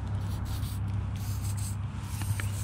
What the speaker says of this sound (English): Spray it on all your guides. Spray on your reel a little bit.